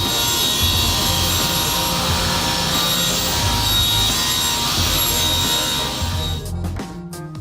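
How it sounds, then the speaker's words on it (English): A linisher belt sander grinds steadily against the ends of curved plywood, a loud continuous abrasive roar with a hum underneath, then winding down near the end. "I used a linisher to sand the ends of the curve flat"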